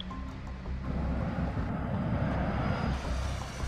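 A trainee fighter pilot's aircraft comes in to land during a solo flight check in a strong headwind, giving a steady, loud low engine rumble with broadband wind roar throughout.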